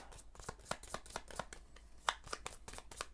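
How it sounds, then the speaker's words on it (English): Playing cards being shuffled during a tabletop card game, heard as a quick run of crisp, riffling bursts at a steady rhythm, close and fairly quiet. "I'm going to have to shuffle up."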